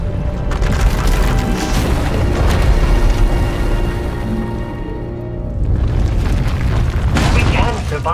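A raging power eruption destroys an asylum in a Star Wars: The Old Republic cutscene: a loud, sustained roaring boom that dips briefly and then surges again, with voices and music underneath.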